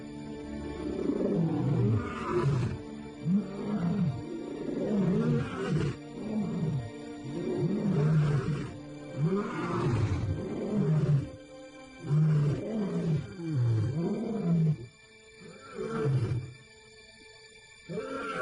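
Male lions roar and growl in a long series of deep, rumbling calls, loud and close, with repeated swelling bursts and brief pauses between them.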